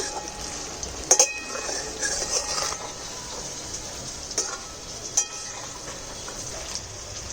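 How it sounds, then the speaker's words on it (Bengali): Cauliflower pakora frying slowly in hot oil, a steady close sizzle and crackle throughout, with a few brief clinks of a utensil against the pan. "এটা একটু ধীরে ধীরে ভাজতে হয় একটু ধীরে ধীরে ভাজলে পকোড়াটা খাস্তা হয়"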